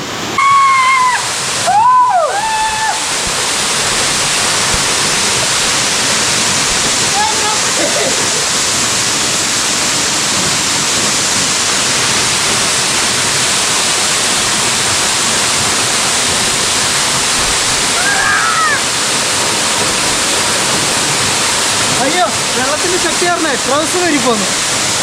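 Waterfall in Arunachal, heard close up as a loud, steady broadband roar of falling water that runs unbroken for the whole stretch, with brief voices cutting in now and then.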